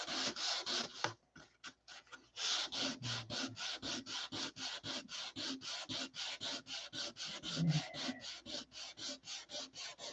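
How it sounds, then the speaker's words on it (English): Sandpaper scrubs back and forth over paint in quick, steady rhythmic strokes, a dry rasping sound repeated dozens of times, close and fairly quiet, with a short pause near the start. "I'm listening now to see when I should stop sanding."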